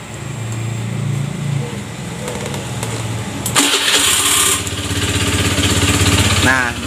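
A Honda Beat FI scooter with a rough, knocking engine being started up close, a steady background drone giving way to a sudden burst as the engine catches and settles into a running idle, with a person talking.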